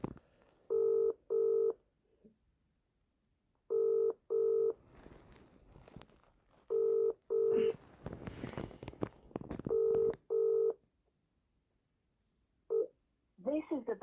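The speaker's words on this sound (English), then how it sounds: "just ringing up Mr. Browell as I normally do nearly every day" Mobile phone number being dialed, heard as repeated pairs of steady keypad tones in short bursts with pauses between them, followed by faint rustling and a brief voice at the end.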